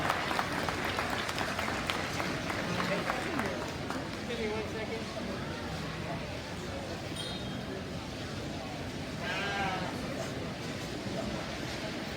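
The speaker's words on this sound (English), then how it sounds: "Let's put our hands together and congratulate these young people" Audience applause at a junior market wether lamb show at the Arizona National livestock event, a steady crowd clapping that fills the hall for several seconds with faint hubbub and clinks underneath, fading slightly then swelling again.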